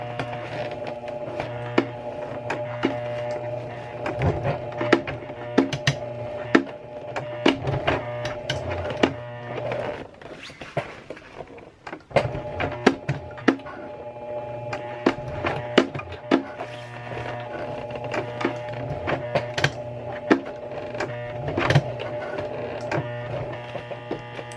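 A sewing machine slowly stitches through the corner of a Longchamp handbag under repair, a humming, rapidly pulsing run that pauses briefly midway and then resumes, close and fairly loud.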